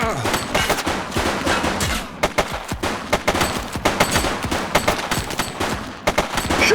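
Rapid gunfire rattles through a police shootout in the video game The Precinct, dense overlapping shots and sharp cracks over a steady loud backdrop, with no clear talking.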